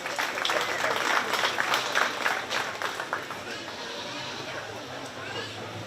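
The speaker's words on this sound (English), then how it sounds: "Let's give her a round of applause." An audience applauds at a 4-H sheep and goat show at the Shelby County Fair, a dense burst of clapping that is loud at first and then fades out over a few seconds.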